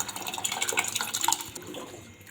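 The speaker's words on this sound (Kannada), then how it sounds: "ಇದು ನೀರು ಹಾಕ್ಕೊಂಬಿಡೋಣ್ರಿ" Water poured into a pot while making Gulbarga-style toor dal sambar, a steady splashing, trickling flow running for a couple of seconds, close and moderately loud, fading slightly toward the end.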